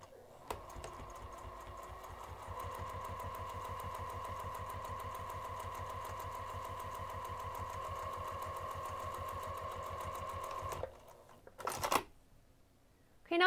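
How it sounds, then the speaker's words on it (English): A sewing machine topstitches the upper edge of a fabric craft bag with a lengthened 3 mm stitch, running in one steady, close, buzzing stretch of about ten seconds before halting, with a couple of brief handling sounds afterward. "we're going to top stitch this top edge using an 1/8 inch seam allowance"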